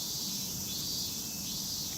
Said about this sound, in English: now at this season it's very loud with cicadas and other insects